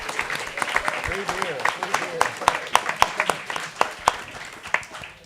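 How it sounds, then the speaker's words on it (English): An audience at an evening talk-and-drinks event applauds the servers, sharp scattered claps rising from a low murmur of voices, with people talking throughout. "can we give a round of applause to our servers for hustling all night?"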